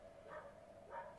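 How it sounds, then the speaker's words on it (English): A few distant dogs bark twice, faint and muffled, against a steady background hum. "Shut up, dogs."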